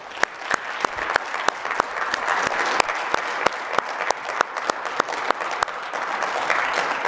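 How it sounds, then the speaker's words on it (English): A speech audience breaks into a steady round of applause, dense clapping with a few sharp, close individual claps standing out throughout. "So we can give him a round of applause."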